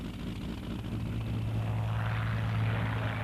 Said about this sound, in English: the British hear the ominous din of German aircraft flying toward them across the English Channel